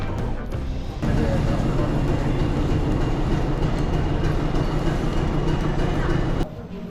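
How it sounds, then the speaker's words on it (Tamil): The Ooty to Coonoor mountain toy train rumbles and rattles steadily along the tracks in reverse, close and continuous, with the noise dropping off near the end. "ட்ரெயின் முன்னாடி போயிட்டு திருப்பி இப்போ ரிவர்ஸில் போகுது"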